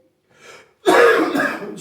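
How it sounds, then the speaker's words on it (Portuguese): A single harsh, close cough from an adult, preceded by a short quieter throat sound, loud and rough for about a second with no other sound around it. "desculpa a tosse aqui"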